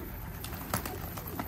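Low cooing from a stray black-winged postacı pigeon, with a couple of short sharp taps and a faint call amid constant outdoor hiss.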